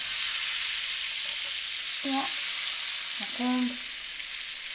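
A buttered crepe pan sizzles with a steady, bright frying hiss throughout, while a voice speaks briefly over it.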